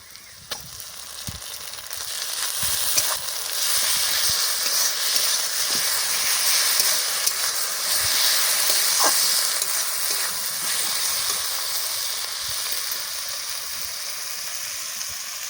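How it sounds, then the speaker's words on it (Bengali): Loud, continuous sizzling and hiss of onion and garlic frying in a pan, with scattered clicks and taps of a utensil stirring. "পেঁয়াজটাকে লাল করে ভাজা করে নেব"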